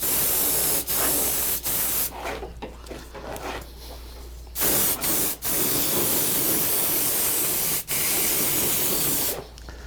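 A spray can or sprayer lays a coat of finish onto the ends of a wooden deck sign outdoors: several long, steady hissing bursts broken by short pauses, close and loud.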